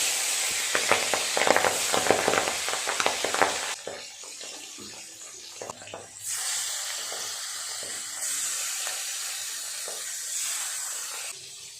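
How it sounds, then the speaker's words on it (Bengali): Pabda fish frying in hot oil in a kadai: a loud, crackling sizzle with sharp spatter pops at first, then settling into a steadier hiss that swells again as more pieces go in, close and alone. "এক এক করে মাছগুলো দিয়ে দেব"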